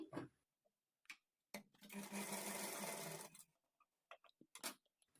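Sewing machine stitching a hemming strip onto a lined blouse, running in one steady burst of about two seconds between brief handling clicks and taps, close and clear with no talk.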